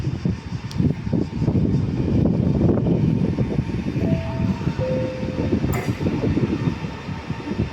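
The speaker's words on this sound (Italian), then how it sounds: "Attenzione, treno in arrivo al binario 8." Regional train pulling into a platform at Padova station, a loud rumbling roar of wheels and cars close by, with a short tonal horn or brake squeal partway through.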